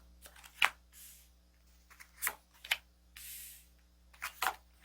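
Tarot cards are quietly shuffled and drawn, with soft scattered flicks and snaps of card stock separated by brief pauses in a calm, close setting.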